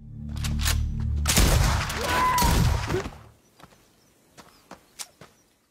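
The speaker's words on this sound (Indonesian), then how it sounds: "John pun langsung menembak beberapa penyusup yang sempat bersembunyi di rumahnya itu." Gunfire in a tense film scene as intruders hiding in a house are shot: a loud, dense burst of shots over a low musical drone, then a quieter tail with a few scattered sharp reports.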